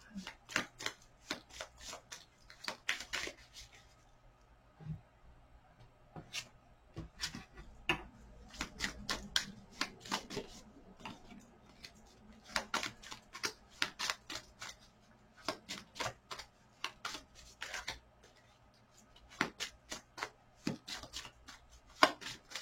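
Playing cards being handled and shuffled during a French channeling guidance session: sharp, close riffling and tapping bursts in scattered clusters, separated by quiet stretches in a calm room.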